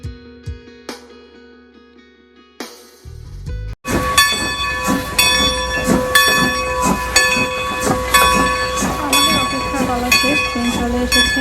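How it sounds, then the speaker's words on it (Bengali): Steam train of the Strasburg Railroad in Lancaster, Pennsylvania pulling into the station: after a quiet start with faint sounds, a sudden loud steam hiss takes over, with rhythmic chuffing and clanking close by. "ট্রেন চলে এসেছে আর এটাই হচ্ছে স্ট্রাসবার্গ রেল রোডের আকর্ষণ।"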